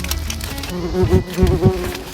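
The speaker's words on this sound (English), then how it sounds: "So many bees." Several bees buzz up close, a droning hum that swells and fades in short bursts as they fly near.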